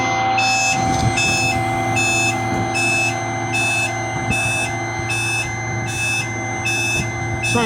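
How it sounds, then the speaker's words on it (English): A construction truck's reversing alarm beeps in a steady repeating series at a concrete plant, loud and close, over a constant low engine rumble. "Sorry about the beeping, everybody."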